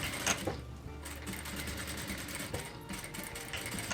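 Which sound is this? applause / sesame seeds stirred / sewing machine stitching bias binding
sewing machine stitching bias binding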